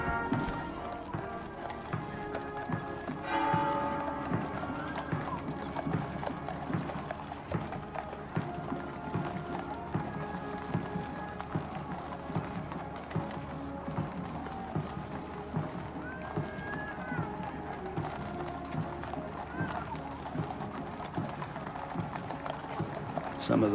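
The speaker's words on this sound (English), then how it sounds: "Some of the horses, understandably, a little restless at this long, slow walk, but they keep them beautifully under control." Horses of the Household Cavalry walk slowly in a state funeral procession, their hooves making a steady, continuous clip-clop on hard ground amid crowd and ceremonial ambience.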